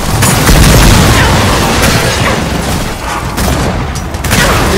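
Loud, dense video game gunfire in Gears of War 4 crackles nonstop in rapid overlapping bursts, forming a continuous barrage with booming impacts underneath.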